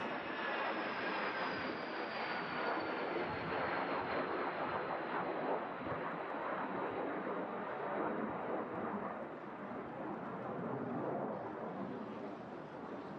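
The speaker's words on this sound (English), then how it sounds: "Next aircraft to arrive, Tui, coming in from Oslo. 737 MAX, Mike Lima." A Boeing 737 MAX airliner arriving at Manchester Airport in strong wind gives a sustained broad engine roar blended with gusty wind rumble, steady and moderately distant.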